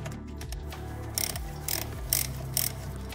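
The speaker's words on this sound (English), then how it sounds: "I've now carefully loosened the screws with the ratchet." A ratchet loosening the Torx screws of an automatic transmission oil pan: quiet mechanical clicking and turning, with several short bursts of sharper ratcheting at a steady pace.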